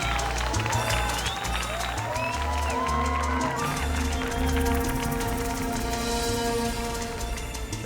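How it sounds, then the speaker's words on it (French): An audience applauds and cheers for Ricardo Oreda, a timbalero sitting in the crowd, with sustained clapping mixed into loud music and occasional whoops. "Merci d'applaudir une belle personne qui est dans le public. Mon ami Ricardo Oreda, le timbalier de la Verdade. On l'applaudit bien fort."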